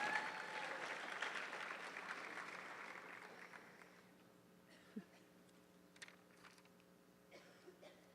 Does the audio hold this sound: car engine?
no